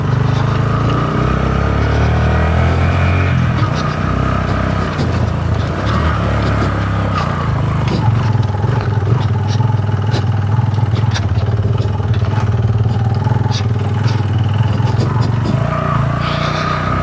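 A vehicle engine labours and revs loudly while climbing a steep mountain road in the Kaghan and Noori valley area, a constant rough drone with rattling clatter running throughout, and faint voices underneath.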